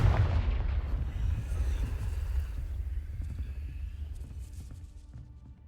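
A Confringo fire spell bursts with a loud, heavy explosion in Hogwarts Legacy, its deep rumble decaying gradually over several seconds.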